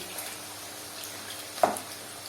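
Chicken liver fries in hot oil, a faint, even sizzle running throughout, broken by one brief clink of a utensil near the end.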